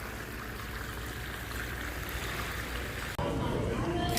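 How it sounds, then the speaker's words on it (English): Water falling back into a pondless waterfall feature with lights beneath it, a steady close rushing splash that grows louder and fuller in the last second. "This is where it falls back in, so it's a pondless waterfall feature."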